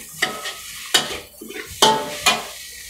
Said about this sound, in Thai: คนให้เข้ากันนะครับ